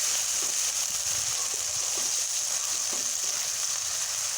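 Spice paste for a goat meat curry fries in a pan, giving a steady, even sizzle and hiss that holds unbroken throughout with no voices.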